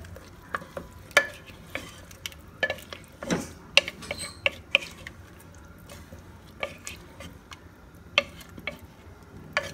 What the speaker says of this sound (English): Now stir it well. Mix all the yogurt